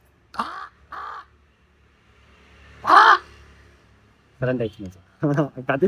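A crow caws several times in short, harsh bursts, one louder call standing out, with brief quiet gaps between them.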